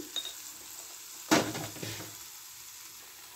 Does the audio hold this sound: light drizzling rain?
no